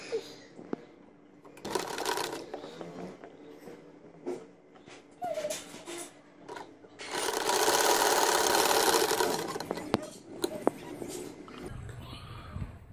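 A sewing machine stitches a six-month baby boy's kameez (shirt) in short, stop-start runs, then one long, steady whirring burst in the middle, with light handling noises between.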